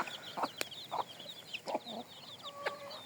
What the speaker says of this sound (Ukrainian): Оце чотири курочки з великого стада